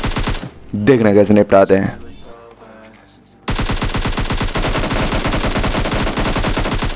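In a mobile shooter video game, gunfire crackles in short bursts, then settles into a loud, rapid, steady string of shots; someone speaks briefly between the volleys.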